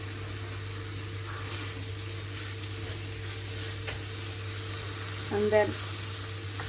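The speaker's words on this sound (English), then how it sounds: "Mix it because it is going to start to stick at the bottom" Flour mixture frying in a pan for a mushroom and chicken casserole, a steady soft sizzle with occasional scrapes of stirring, under a constant low hum, and a voice briefly speaks.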